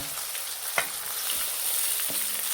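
Eggplant olo with green onion stirred in a pan gives a steady, close sizzle, broken by a couple of sharp spoon scrapes against the metal.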